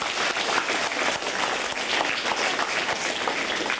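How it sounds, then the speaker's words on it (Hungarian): An audience at a stage show in Opatovská Nová Ves applauds the sponsors, with dense, steady clapping that fills the whole stretch at close range and holds an even, loud level throughout. "Nagy tapsot mindenkinek a"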